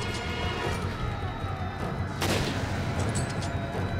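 Gunfire in Resident Evil 5, a dense crackling barrage with a sharp loud crack partway through over steady rumbling game noise.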